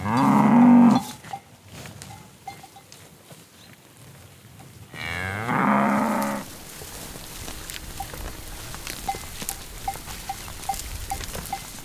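Cattle at a mountain pasture give two long, loud moos, one at the start and another midway, with quiet outdoor background and faint scattered ticking between them.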